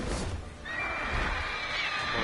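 A horse whinnies in the video game region of Velen, a long rising and falling neigh over steady background noise, close and clear, with faint hoof sounds.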